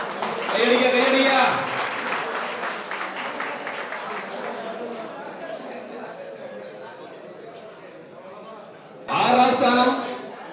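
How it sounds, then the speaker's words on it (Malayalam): An audience at a pigeon-racing tournament prize distribution in Palakkad breaks into a burst of clapping, which fades under a voice on a loudspeaker before a second short round of applause rises near the end. "കൈയടിക്ക കൈയടിക്ക"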